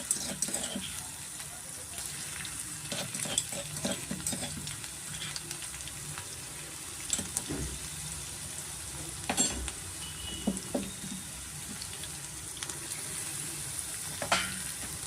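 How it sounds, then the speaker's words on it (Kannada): Crushed garlic fries in oil in a pan, with a steady, moderately loud sizzle and crackle. Occasional scrapes and stirring knocks of a utensil break in now and then. "ಬೆಳ್ಳುಳ್ಳಿನ ಎಣ್ಣೆ ಚೆನ್ನಾಗಿ ನಾವು ಫ್ರೈ ಮಾಡ್ಕೊಬೇಕಾಗುತ್ತೆ"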